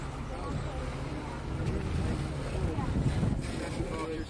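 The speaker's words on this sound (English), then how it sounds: "we're motoring out to Florida Bay" The schooner Windfall motors toward Florida Bay under engine power, a steady low engine rumble mixed with wind buffeting the microphone and water noise, with voices talking faintly over it.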